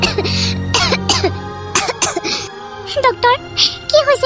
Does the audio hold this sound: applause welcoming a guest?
no